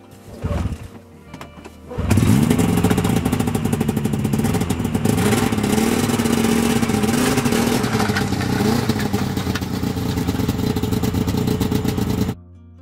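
A Yamaha Phazer snowmobile engine, bogging and not revving out fully, starts up and revs loudly, holding a steady high drone with slight wavering pitch for about ten seconds before cutting off abruptly.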